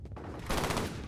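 Rapid automatic gunfire in the multiplayer shooter F.E.A.R. Combat during a deathmatch on the Factory map, a dense continuous burst of shots that sounds close and loud.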